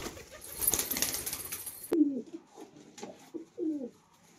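Pet pigeons cooing close by in a home loft, soft low throaty coos repeating in short phrases after a brief burst of wing flapping and rustle, fairly quiet with no talking.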